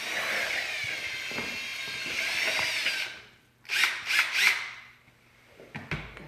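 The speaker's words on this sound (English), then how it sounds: "So I just use a drill with a paint mixer attachment." Electric drill with a paint mixer attachment stirring pottery glaze in a small bucket, a whirring motor that revs and slows for about three seconds, then three short bursts of spinning before it stops.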